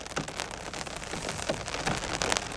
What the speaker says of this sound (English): But it is raining outside.